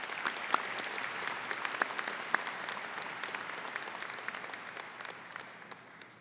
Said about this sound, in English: May we hear a round of applause for our special guests.